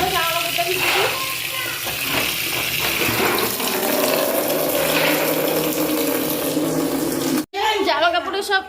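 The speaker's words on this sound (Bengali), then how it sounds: "চলো জামা কাপড়টা ভিজে দিই।" Water pours steadily from a tap to soak clothes, a loud continuous rush that fills the clip, with voices talking faintly underneath and a short break near the end.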